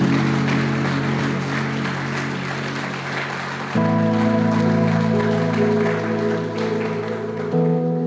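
A church congregation claps loudly and continuously, a dense wash of applause running the whole time alongside a sustained musical tone in the background.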